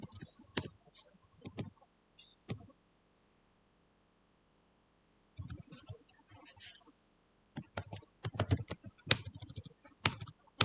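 Computer keyboard typing code in short bursts of quick clicks, separated by a long pause, then a denser, louder run of keystrokes near the end, close and without talk.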